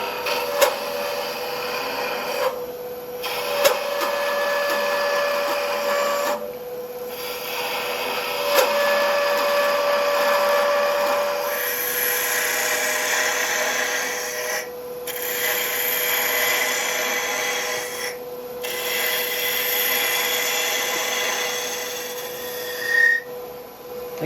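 A wood lathe turning a long-stemmed goblet, with a sustained motor hum under scraping, hissing tool cuts that come and go in passes, broken by brief pauses and sharp knocks.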